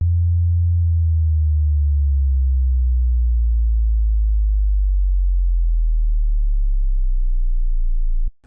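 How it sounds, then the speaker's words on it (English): A pure sine tone from Ableton's Operator synth with a fixed frequency glides slowly downward for about eight seconds as a single smooth, steady hum, then cuts off abruptly. "This is just a sine wave, an operator with a fixed frequency, so I can show you this stuff."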